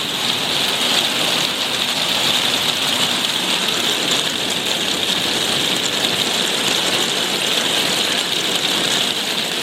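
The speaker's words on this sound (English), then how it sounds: "The only trouble with conservatories, when it rains, it gets a bit loud" Heavy rain drums steadily on a pub's conservatory roof, a loud, dense hiss of pattering drops that continues without pause and has no voices over it.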